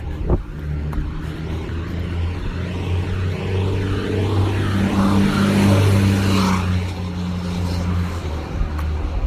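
A loud industrial truck rumbles past close by, its heavy engine swelling and holding strong for several seconds before easing off, with no talking over it.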